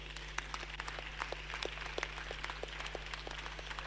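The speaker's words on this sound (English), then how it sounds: "Please keep clapping for these people." Scattered audience clapping at a scientific conference's annual general assembly session, sparse individual claps at a moderate distance over a steady low hum, with no talking.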